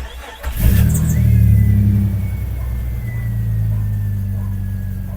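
A Jeep Cherokee XJ with zero oil pressure cranks, catches and settles into a steady idle, the engine rumbling loud and close, revving briefly at start-up before holding an even drone.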